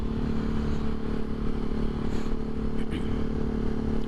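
On a BMW ride, a motorcycle engine drones steadily nearby with faint clatter and scraping mixed in, and no one speaks.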